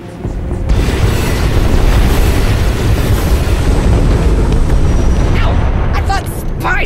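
Cannon fire in the Star Wars Knights of the Fallen Empire game produces a loud, sustained booming roar of explosions lasting several seconds, close and dense, ending with brief sharp energy zaps.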